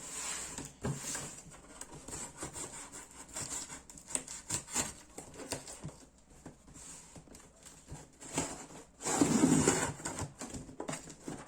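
Raspy back-and-forth sawing and rubbing while the sides of LEGO Star Wars set packaging are cut open up close, with bursts of scraping and a louder stretch near the end.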